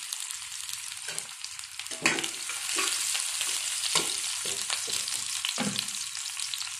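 Onion and garlic fry in a pan with a continuous sizzle, broken by repeated scraping strokes as they are stirred, close by and with no speech.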